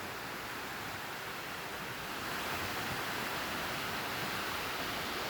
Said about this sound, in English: You can see the water flowing pretty good there.